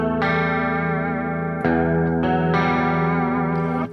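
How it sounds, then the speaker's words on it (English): Electric guitar played through a lush chorus effect, shimmering and wavering as sustained chords ring out and change, with no voices. "I turned on my chorus pedal and I did this."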